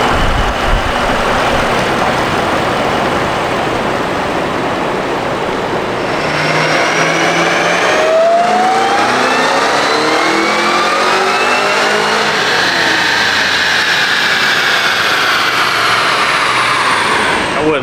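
A Cadillac CT5-V Blackwing with a Stage 1 tune runs hard on a dyno, its engine loud and close, holding a steady roar before climbing through a long rising rev as the pitch sweeps upward.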